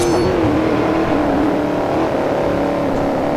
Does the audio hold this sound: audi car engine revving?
yes